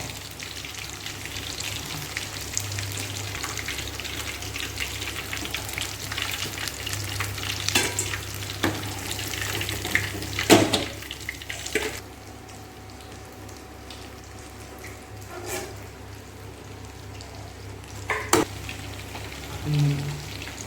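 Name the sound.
chicken 65 deep frying in oil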